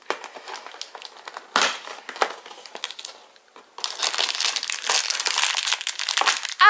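Paper wrapping on advent calendar door number 7 crinkles and crackles close by in repeated handling bursts, with a brief pause midway before a longer, denser stretch of rustling.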